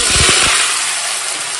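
Mustard oil sizzling hard in a hot wok as whole tender okra goes in, a loud steady hiss with a few brief low knocks at the start.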